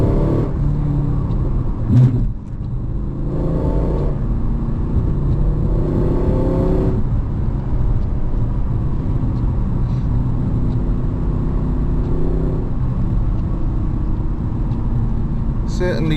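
A Holden-built Vauxhall VXR8 GTS accelerates on a wet Welsh road, the A4059 near Brecon. Its engine rumbles steadily with rising pulls and a gear shift, heard from inside the car with a few faint voices.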